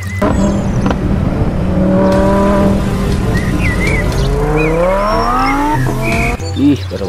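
A toy Lamborghini race car gives off loud electronic racing effects, a revving engine whine that rises and falls with squealing tire-like sweeps and chirpy tones, continuous for several seconds and close by.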